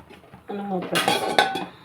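A metal lid settles onto a cooking pot of bottle gourd curry simmering in milk, making a close clatter and a couple of ringing clinks in under two seconds.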